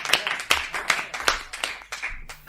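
A scattering of audience hand claps at a poetry recital, about a dozen sharp irregular slaps over a couple of seconds, moderately loud, with no speech.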